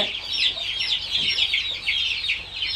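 Chickens cluck and squawk close by at a poultry farm in a continuous chattering stream, a steady flock noise with no talking.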